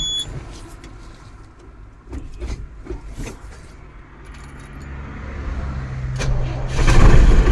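A Tata tow vehicle left standing for about a month is started up: keys jangle and clicks come first, then the engine cranks and catches, settling into a loud, close running rumble that grows toward the end.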